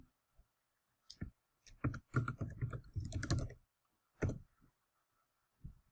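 Someone types a word on a computer keyboard in short bursts of crisp, close keystrokes separated by brief pauses in an otherwise quiet room.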